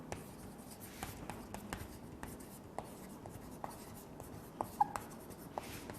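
Marker or chalk writing on a classroom board, a steady series of soft scratchy strokes and light taps, close and quiet with no speech.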